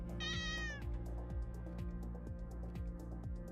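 A real cat meows once, a clear, close, high drawn-out cry over a loud, steady music backdrop with a rhythmic beat.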